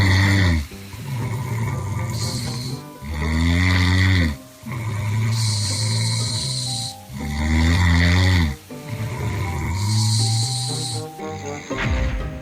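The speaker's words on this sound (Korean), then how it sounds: "이런 상황이면 아, 그래도 이렇게 코 골면 깨죠" A woman snoring loudly in her sleep, deep rattling inhalations alternating with shorter breathy exhales in a steady rhythm of about five cycles, very close and forceful throughout.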